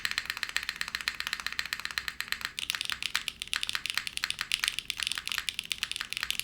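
Rapid clacky keystrokes ring out on an Arc60 mechanical keyboard with HMX Macchiato switches, a dense irregular stream of close, crisp clicks with occasional heavier spacebar thuds.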